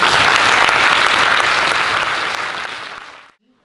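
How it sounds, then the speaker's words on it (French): Strong audience applause at a quarter-final eloquence contest, a thick, loud wall of clapping that holds steady and then fades out quickly into silence near the end. "Applaudissez maintenant"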